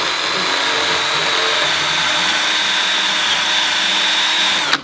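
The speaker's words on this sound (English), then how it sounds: "So I'm using an end mill on a drill." A loud, continuous high-pitched whine from an end mill bit on a drill, used to repair an engine block, holds steady for about five seconds, then cuts off abruptly.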